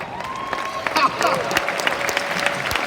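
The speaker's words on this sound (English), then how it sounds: "Make yourself a round of applause," A large seminar audience in Cracow clapping, a brief round of applause with a voice talking over it.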